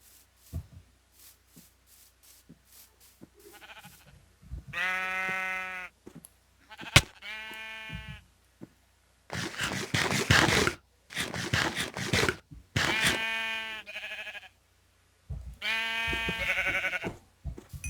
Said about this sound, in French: je chope juste un mouton.